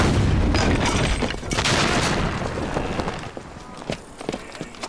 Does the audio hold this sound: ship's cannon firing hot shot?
yes